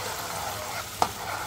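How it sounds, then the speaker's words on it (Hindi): A spoon stirs tomato puree into sliced potatoes frying in a pan, with a soft steady sizzle and one sharp scrape or clink of the utensil against the pan. "टमाटर की प्यूरी डालने के बाद इसको एक बार अच्छा मिला लेंगे"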